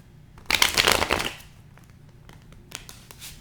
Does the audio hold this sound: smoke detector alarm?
no